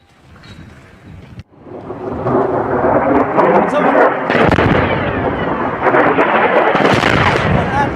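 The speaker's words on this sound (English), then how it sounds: "You're going to hear explosions in this next round." Missile strikes in news footage set off heavy booming explosions, a sharp blast followed by sustained rumbling roars and a second loud burst, loud and close, with debris clatter.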